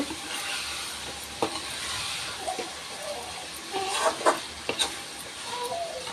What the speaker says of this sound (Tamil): இதை நல்லா கிளறி விட்டுக்கலாங்க